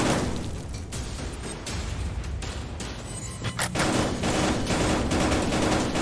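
Gunfire in a crowded VR shooter game, with rapid overlapping shots and bursts at moderate distance forming a dense, continuous volley throughout.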